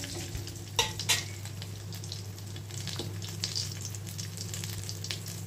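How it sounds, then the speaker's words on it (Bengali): Cumin seeds fry in oil as a tempering, producing a quiet, even sizzle close by, punctuated by a couple of sharp utensil clinks and light stirring scrapes. "ভাজা হয়ে গেছে জিরেটা।"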